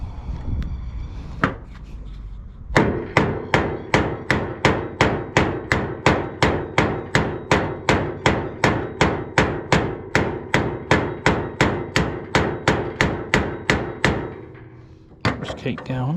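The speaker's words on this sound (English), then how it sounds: "I'll just keep hitting it with the hammer, flatten it out like a pancake" A hammer strikes the tip of a chainsaw bar to flatten it, about forty sharp metallic blows in a fast, steady rhythm, loud and close after a few scattered taps.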